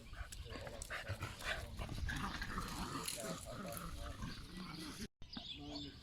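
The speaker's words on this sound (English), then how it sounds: "Puppy." A puppy yips and whimpers in short, busy bursts, fairly close and loud, mixed with people talking over it before a brief cut near the end.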